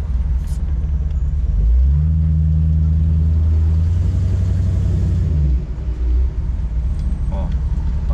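A 1961 Ford Thunderbird driving, low steady engine rumble with a rising tone in the middle that drops away near the end, loud and close inside the car.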